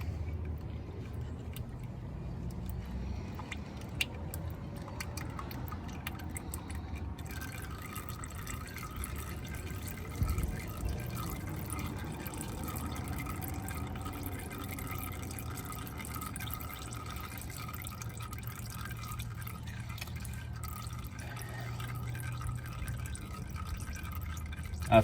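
Transmission fluid draining from a 2000 Toyota Avalon, a steady low trickle and dripping that carries on the whole time with no talk, softly spattering into a catch pan.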